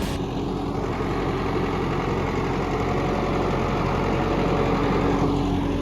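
A tractor engine idles close by, a steady low rumble with an even, unbroken throb that neither rises nor falls, and no one speaks.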